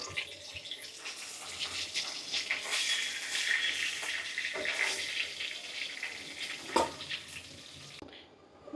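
Hilsa fish frying in hot oil in a home kitchen, a steady close sizzle and crackle with light clinks as the fried pieces are lifted out, fading to quiet at the end.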